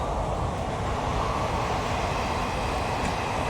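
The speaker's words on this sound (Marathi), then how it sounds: "मुंबईला ट्रेन चालली, मुंबईला, गुजरातहून मुंबई" A train bound from Gujarat to Mumbai rolls past with a steady, loud, low rumble throughout and no voices.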